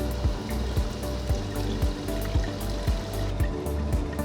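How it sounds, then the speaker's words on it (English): Water drains out of a Blue Ice Cream Machines T10 soft-serve machine in wash mode, a steady trickling flow over a low mechanical hum with regular soft thumps, no voices. "So now we've drained all the water out of the machine"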